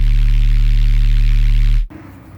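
A dubstep bass synth patch built entirely from FL Studio plugins rumbles heavy and loud with a gritty, buzzing, pulsing low end for almost two seconds, then drops out abruptly into a quieter, noisy tail.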